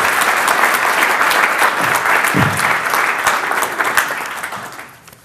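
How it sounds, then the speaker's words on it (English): An audience at the 2016 Meriden Hall of Fame induction ceremony applauds honorary board members, a full, close wash of clapping that holds steady for several seconds before tapering off at the end. "Please join me in a round of applause."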